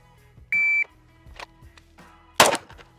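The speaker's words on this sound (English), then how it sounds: "On the beep." A short electronic beep from a shot timer rings out, followed moments later by a sharp, loud bang of a gunshot during a concealed-carry draw drill, with faint thumps in between.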